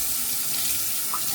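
Running tap water gushes steadily into a bathroom sink for a rinse during a wet shave, a constant bright hiss that stays loud and even.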